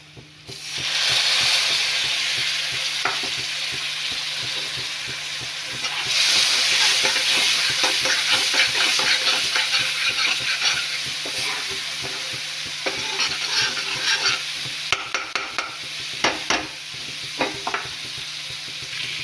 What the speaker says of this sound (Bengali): মশলাটা ভালো করে ভাজা হবে